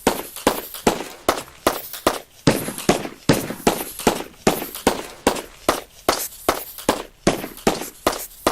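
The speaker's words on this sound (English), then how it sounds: "it makes you feel like an actual shooting turret." A turret from the Open Turrets mod for Minecraft fires rapidly, giving sharp, evenly spaced shots in a steady repeating rhythm for several seconds, loud and close, with no voices.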